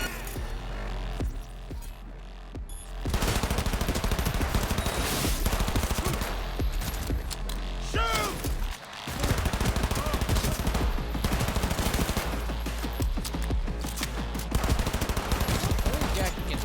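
Sustained gunfire in Cyberpunk 2077, dense rapid automatic bursts running almost continuously and loud, with only a brief gap midway, as someone talks over the shooting.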